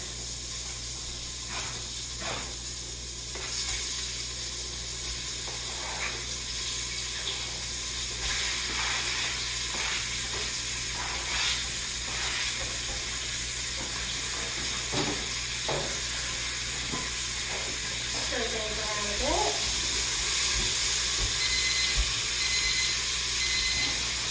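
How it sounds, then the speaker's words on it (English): Bacon, onion and salt cook in a quick-cooker pot for a one-pot Oktoberfest meal, giving a soft, steady sizzle with scattered clicks and scrapes of utensils. No voices over the cooking. "got our bacon, we're going to add our onion, salt. That's going to cook for another 3 to 4 minutes here."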